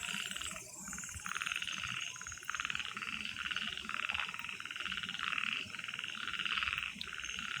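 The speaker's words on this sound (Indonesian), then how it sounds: "Bangkong bukan kodok katanya." Toads croaking at night near an old house: a steady chorus of rapid pulsing croaks, several calls overlapping at moderate distance against a constant insect-like background hiss, with no speech.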